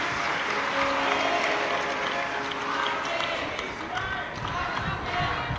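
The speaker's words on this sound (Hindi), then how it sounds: "एक बार यजमान परिवार के लिए जोरदार ताली बजाकर उनके लिए साधुवाद करें" A large crowd at a Shiv Mahapuran religious discourse in Bhusawal, Maharashtra applauds the host family, producing a steady, continuous wash of clapping and crowd noise.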